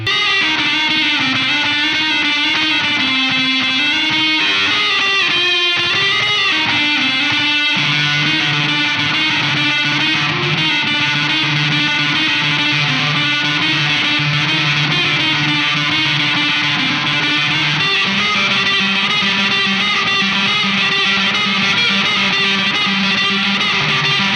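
An electric guitar plays sustained chords through a Non-Human Audio and Benson Florist chorus pedal, giving a sweeping, phaser-like warble that stays loud and continuous throughout.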